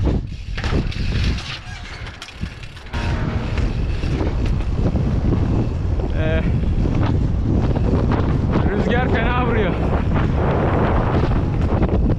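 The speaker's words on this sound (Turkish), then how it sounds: "Rüzgar çok vuruyor yoksa basit" Strong wind buffets the microphone in loud, continuous roaring gusts during a street drive in Çanakkale, with a short lull early on and faint chirps underneath.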